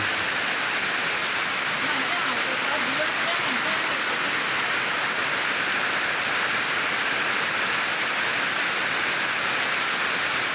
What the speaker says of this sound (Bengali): বৃষ্টি আর বৃষ্টি, খালি বৃষ্টি অনবরত।